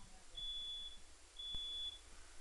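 A home smoke detector emits two faint, high-pitched beeps, each lasting about half a second, over quiet room tone.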